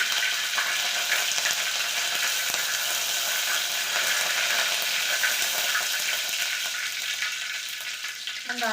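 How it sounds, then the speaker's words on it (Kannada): Mustard seeds splutter in hot oil with a dense, loud, continuous crackle and sizzle that stays steady, then eases slightly near the end. "ಸಾಸಿವೆ ಕಾಳು ಚಟ್ಕಂತು"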